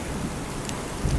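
Rainy-season rain falls steadily in a constant hiss, and a low rumble of thunder swells near the end of the short stretch.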